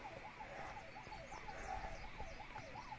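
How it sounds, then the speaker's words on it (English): An ambulance siren wails faintly in the distance in a repeating rising and falling pattern, heard over a low background hum. "There's an ambulance."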